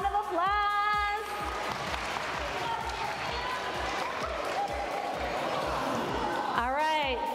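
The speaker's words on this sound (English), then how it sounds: "Good job, round of applause." Crowd applause at a junior school robotics competition, steady clapping mixed with cheering and chatter, with children's voices and a speaker heard over it.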